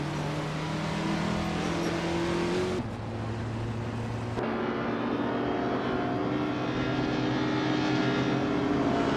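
Vintage street racing cars in a video game, including a 1970 Nissan Fairlady Z 432, engines droning loudly and steadily with a sudden shift in pitch partway through, close and continuous.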